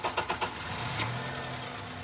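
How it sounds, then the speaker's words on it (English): A car engine being started during ultrasonic injector testing, a few quick cranking pulses followed by a steady, even idle at close range with no talk. "Now we're gonna start the car."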